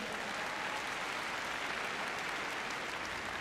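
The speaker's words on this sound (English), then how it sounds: "Give her a round of applause." An audience at the Crufts dog show claps in sustained, even applause for a heelwork to music freestyle competitor, dense and moderately distant throughout.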